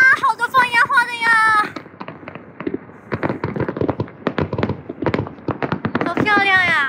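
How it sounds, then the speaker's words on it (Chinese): Fireworks going off outdoors during a celebration, a string of sharp bangs and crackles at varying distances, with a voice speaking before and after the bursts. "哇，好多放烟花的呀，"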